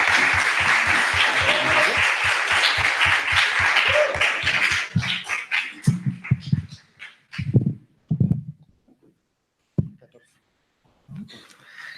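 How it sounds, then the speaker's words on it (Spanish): Applause at a Mexico City urban-studies lecture, sustained clapping for about five seconds that thins out and fades, followed by talking with a few isolated claps in the pauses. "Pido un aplauso fuerte para la maestra Lenia."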